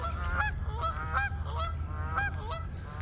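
Several geese honk repeatedly in a loose, overlapping chorus, clear and fairly close, with no talking.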